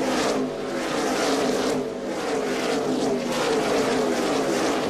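NASCAR Sprint Cup stock cars racing in the 2009 Coca-Cola 600 at Charlotte: a loud, continuous, close roar of engines, dipping slightly near the start and then holding steady.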